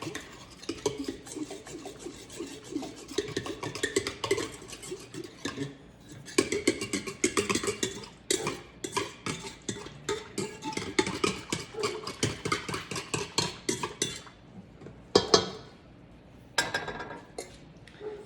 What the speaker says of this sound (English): just stir that until it's all nice and dissolved into itself